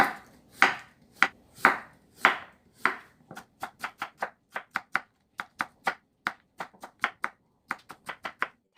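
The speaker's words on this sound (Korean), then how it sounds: "이제 오이를 채를 썰어서 이제 조금만 넣어줄게요" Knife chopping cucumber into thin julienne strips on a cutting board, starting with slower, heavier strokes and speeding into a quick, steady run of crisp, close chops with no talking.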